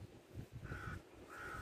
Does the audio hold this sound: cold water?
no